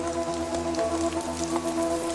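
Steady rain patters on leaves in a tropical setting where hummingbirds bathe, a dense even wash of drops with scattered louder taps, close and continuous with no voices.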